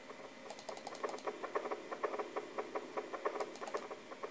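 Rapid pattering taps of synthetic rain from an AfterDark screensaver on a circa-1991 Macintosh patter steadily in a fast irregular rhythm over a faint hiss, fairly quiet and without any voices.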